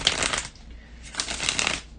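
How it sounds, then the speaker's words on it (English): Tarot cards being shuffled by hand in two close bursts of riffling with a short pause between, crisp and near with no talking. "bear with me just a second, guys, to shuffle the tarot cards"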